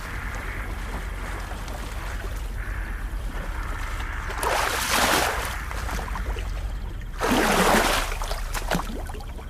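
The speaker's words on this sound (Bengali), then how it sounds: "বেশ কিছুক্ষণ নৌকা চালানোর পর ওরা পৌঁছে যায় পাকজলাতে" Cartoon rowing effect of a boat on water, with two loud oar splashes and sweeps standing out over a soft watery background, and no voices.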